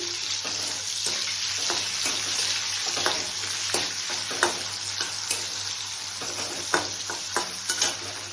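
Raisins and tomatoes fry in a pan with a loud, continuous hiss, while scattered clinks and scrapes from stirring sound up close throughout.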